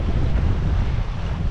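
Strong wind of about 20 knots buffets the microphone aboard a sailboat running under genoa alone, a loud, continuous low roar with rushing water and wave wash beneath, no voices.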